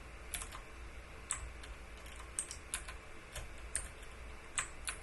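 Computer keyboard keys are pressed in scattered, faint clicks, a dozen or so light taps at an uneven pace in a quiet room.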